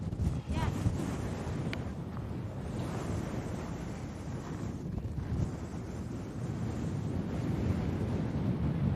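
A strong gust of wind blows outdoors, a loud, steady roaring rush buffeting the microphone, with surf-like noise and a brief voice early on.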